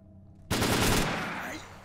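Sudden burst of gunfire in the video game S.T.A.L.K.E.R., a loud rapid automatic volley erupting out of near silence and ringing for over a second before fading into an echoing tail.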